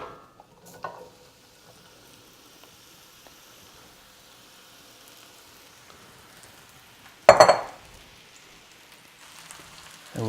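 Mushrooms in olive oil in a cast iron pan give a quiet, steady sizzle, broken by a sharp burst of crackling as they are stirred, then a softer hiss resumes.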